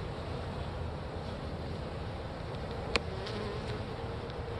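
Honeybees buzz around a hive during spring feeding outdoors, a dense, continuous hum close by with one sharp click partway through.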